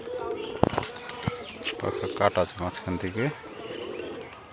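A female high-flying Rajshahi pigeon, wing feathers clipped in the middle, coos in a string of quick pulsing bursts close by, while someone talks over and around the calls.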